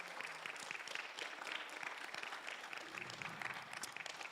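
A church congregation applauds steadily throughout, a dense wash of many hands clapping at moderate volume with no voices on top.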